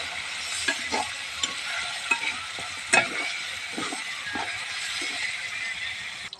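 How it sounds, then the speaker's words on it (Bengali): Homemade desi chicken frying in a pan, a steady close sizzle with occasional stirring scrapes and clinks over it. "আমার মুরগি ভাজা হয়ে গেছে দুটো হাত করে"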